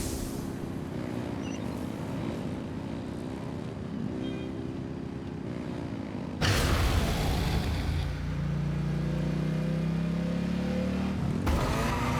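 Vehicle engine running at full throttle in Genshin Impact, a sustained loud motor roar that jumps sharply louder partway through with rising and falling pitch sweeps, no talk.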